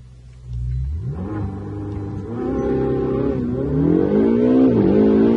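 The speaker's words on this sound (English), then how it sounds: "let's start the engine up and hear that exhaust or hear that motor run" A 2018 Ferrari 488 GTB engine cranks and fires up, then revs repeatedly with rising and falling pitch, loud and close, no voices.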